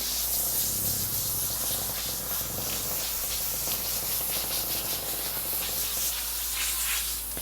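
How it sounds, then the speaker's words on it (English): A garden hose sprays water steadily over a sweaty pony, a continuous broadband hiss and spatter that stays loud and close throughout with no talking. "So you're going in with the hose."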